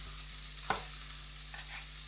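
Steady sizzle of food frying in a pan, with a brief clink of a utensil stirring.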